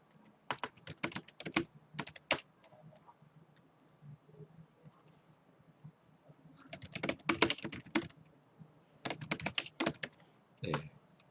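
An answer is typed on a computer keyboard in bursts of quick, close key clicks. A quiet pause falls in the middle before a longer flurry of typing resumes, with no speech.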